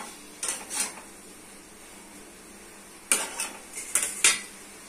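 Okra and potatoes are stirred with spices in a pan, giving two short bursts of scraping and clinking utensil-on-metal sounds separated by a quiet pause.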